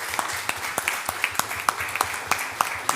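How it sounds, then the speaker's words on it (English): Audience at a technology workshop claps, a fairly sparse round where individual hand claps stand out in an uneven rhythm over a softer background of applause. "I think that you deserve a good round of applause."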